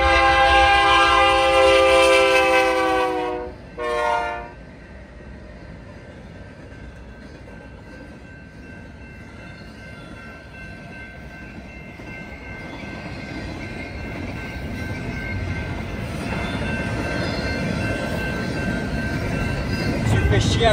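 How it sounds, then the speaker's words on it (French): A long freight train of more than a hundred wagons passes on an American rail line near Route 66. Loud horn blasts come first, then a steady rumble and clatter of cars that swells as the train rolls by. "Passage d'un train."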